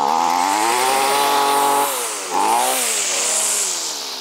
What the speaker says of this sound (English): let's get this thing started up. Starting a weed whacker can always be an adventure